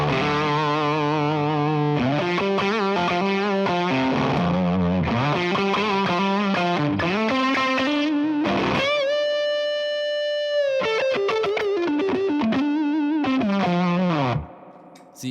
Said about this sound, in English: when you turn on the Tube Screamer, it's like it cuts a lot of the lows and it cuts a lot of the highs and just focuses on the mids